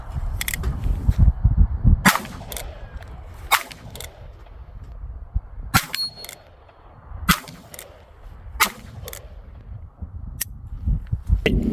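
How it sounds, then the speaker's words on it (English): An old-model Ruger Blackhawk .357 Magnum revolver fires light economy handloads: about nine sharp, loud reports spaced a second or two apart outdoors, each ringing briefly. "here's my Blackhawk, old model, 357 Magnum, light economy loads."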